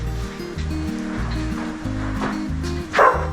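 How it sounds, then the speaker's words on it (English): A cattle dog barks a few times outdoors over a steady low rumble, the barks somewhat distant, on a station in the Flinders Ranges. "it sounds like we've got the old cattle dog outside"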